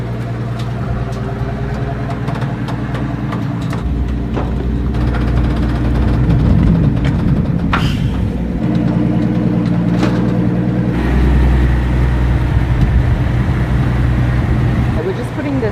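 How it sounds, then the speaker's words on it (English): A Maybach Exelero's V12 biturbo engine idles with a steady low rumble throughout, while people talk nearby over it and brief clatters and knocks sound in the background. "This is a V12 bit turbo"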